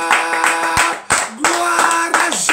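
Congregation clapping and cheering in a church service praising Jesus, steady loud applause with a sustained voice and music-like tones running through it.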